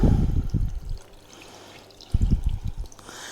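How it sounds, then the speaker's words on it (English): Water is poured into a container to measure for olive brine, a splashing pour at the start, then quiet, then a second burst of pouring and splashing up close. "So I'm going to add the water."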